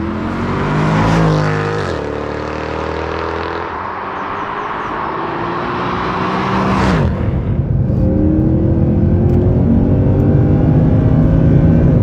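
A Mercedes C63 AMG drives by outside on a Scotland road trip, its engine note rising loud and close as it passes, then shifting and fading, with no talk.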